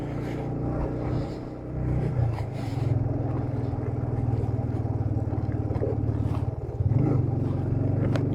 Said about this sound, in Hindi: बाइक बहुत स्ट्रगल कर रही है यार